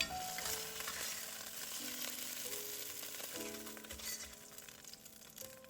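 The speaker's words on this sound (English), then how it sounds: "stir the shrimp and fry for another 10 seconds until the shrimp almost change color" Shrimp stir-fry in a pan with a soft, steady sizzle and crackle, joined by light scraping and clinks of a spatula stirring, quiet and close with no talk.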